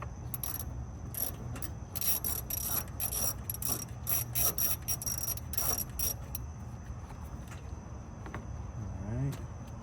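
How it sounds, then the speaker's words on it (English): A ratchet wrench turns bolts on dual radiator fans, giving rapid bursts of clicking pawl noise with short pauses, close and fairly quiet, alongside some low rubbing and mechanical noise. "I need to grease up this ratchet."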